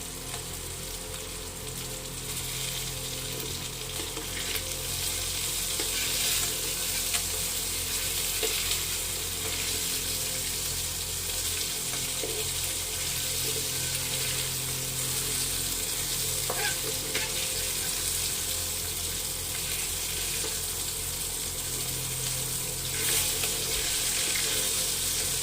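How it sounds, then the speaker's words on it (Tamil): Fish curry boils in a clay pot with a steady, continuous bubbling and simmering hiss, close and even throughout, with no talking. "மீன் போட்டாச்சு, கொதி வருது."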